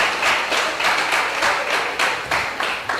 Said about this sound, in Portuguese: Você pode aplaudir ao Senhor, você pode aplaudir a palavra de Deus.